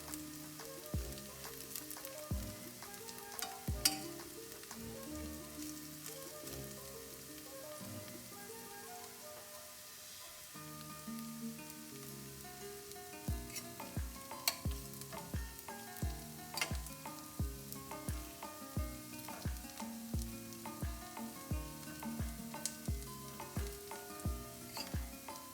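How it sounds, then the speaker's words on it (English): Onions frying in a stainless steel pan for crispy fried onions, a close, continuous sizzle broken by repeated scraping and stirring strokes of a utensil, with no voices. "Move the onions that are still white to the hottest part of the pan."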